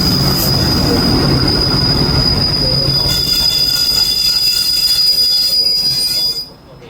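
Passenger train 415 pulls into Tha Phra station in Thailand, its wheels letting out a loud, continuous high-pitched squeal over rumbling rail noise that cuts off abruptly as the train stops.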